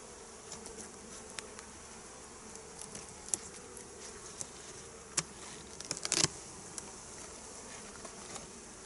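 Honeybees buzz in a dense, continuous hum inside an opened spring-swarm hive under the inner cover, faint but steady, with occasional closer bees and small clicks.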